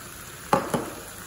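Frozen vegetables tipped into a pan of bolognese sauce, making two quick soft thuds with a brief sizzle, close by, with no talk.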